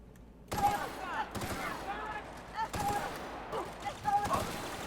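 Gunfire in the video game The Outer Worlds rings out as several bursts of rapid shots at moderate level, with a voice murmuring faintly underneath.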